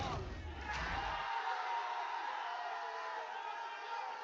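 An esports audience at a VALORANT Challengers match cheers and roars as a muffled crowd wash that stays fairly even, with a brief sharp burst early on and faint commentary beneath it.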